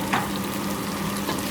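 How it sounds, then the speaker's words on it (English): Tomato pieces drop into onions sizzling in hot oil for an Indian lamb curry. A loud, close, continuous frying hiss dominates, with a brief splattery burst as the pieces land and light stirring scrapes. "And to this now I'm going to add the tomato pieces"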